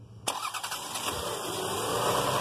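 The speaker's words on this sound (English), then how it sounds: "Go ahead, crank it up, Randy." A 1999 Lexus RX300 with a no-start fault cranks after a sharp click, the starter whirring in quick repeated pulses before settling into a steadier rising engine roar, close and loud.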